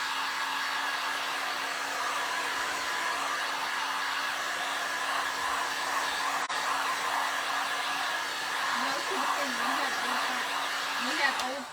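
Heat gun runs in a steady, continuous blowing whine at a crafting event, loud and unbroken throughout, with faint voices and light chatter behind it toward the end.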